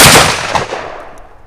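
A Browning Maxus One semi-automatic shotgun fires a clay load of number eight shot. A single loud, sharp blast is heard up close, followed by a reverberant tail that fades over about a second.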